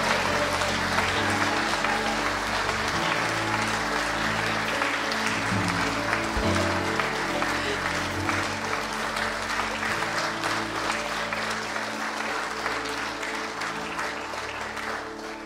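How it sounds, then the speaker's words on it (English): Church congregation at a Sunday baptism service applauding and cheering steadily, dense sustained clapping filling the room for the whole stretch, tapering slightly at the end. "Now let's cheer for them."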